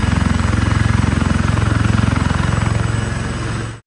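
A T129 ATAK attack helicopter with two LHTEC CTS800 engines throbs with rapid, evenly pulsing rotor beats over a steady engine whine, loud and close before cutting off abruptly at the end.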